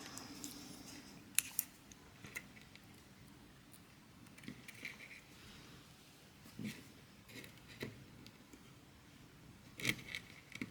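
Scissors snip through beading string at a seed bead earring project, a few short sharp cuts spread across a quiet, faint background.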